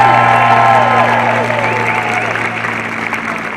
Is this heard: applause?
yes